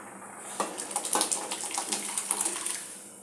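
Tap water runs and splashes steadily into a pressure cooker being rinsed in a home kitchen while sambar cooks, with close, uneven sloshing and spattering and no speech.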